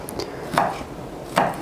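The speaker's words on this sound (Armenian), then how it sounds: "մանր կտրատում ենք սոխը" A knife finely chops onion for lentil and mushroom cutlets, giving two crisp, close chops about a second apart with a few softer cutting sounds around them.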